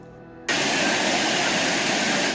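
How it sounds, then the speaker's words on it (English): Whitewater rapids on the Chattooga River in a forested setting roar in as a loud, steady, broad rush of churning water that sets in abruptly and holds constant. "This is the Chattooga River."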